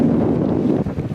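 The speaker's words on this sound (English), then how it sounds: "It just got windy again." Wind rushes over a house roof during California wildfires, a loud, close, continuous buffeting roar against the microphone, with no talking.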